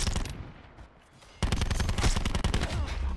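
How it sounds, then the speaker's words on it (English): Loud, close automatic gunfire in Call of Duty: Black Ops 4: a short burst, a brief lull, then sustained rapid shots with sharp cracks for the rest of the moment. "He just shot me through a wall?"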